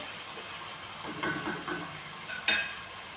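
A chicken and brinjal curry with tomato pieces simmers and sizzles in a pan, a soft steady hiss with a few stirring scrapes and one sharper clink near the end, close by with no speech.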